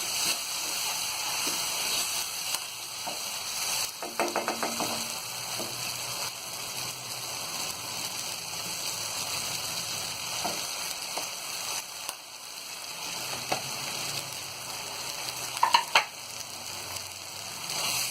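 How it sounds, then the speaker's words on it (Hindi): Eggs stirred into sizzling, fried-down gravy for egg biryani give a continuous crackling sizzle, with intermittent scraping and clinking of a spoon against the pan throughout. "ये अंडे डाल के अच्छी तरह चला लेंगे।"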